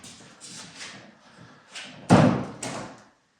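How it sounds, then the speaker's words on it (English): The rear door of a stripped-down T5 mail truck being restored as a rolling chassis is worked open with a few scraping knocks, then shut with a loud, close metallic slam and a lighter second thud. "so door opens now"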